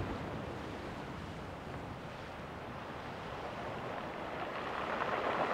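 Wind blows across the sea shore of the Bristol Channel during a fishing session, a constant broadband rush mixed with soft surf that builds a little louder near the end, with no voices.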